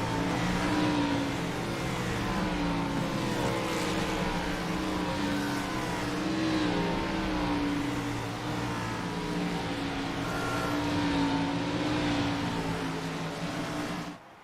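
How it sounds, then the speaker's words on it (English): Race cars in an auto club racing league roll down the pit lane together, their engines droning and revving steadily for over ten seconds with overlapping passes and no voices. "Here they come all down the pit lane."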